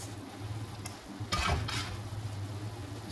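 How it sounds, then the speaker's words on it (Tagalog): Sautéed tomatoes go into a pot of potato stew and get stirred, with a faint background sizzle and a couple of brief scraping stirs near the middle, over a low steady hum. "Ngayon na natin ilagay ang ginisang kamatis."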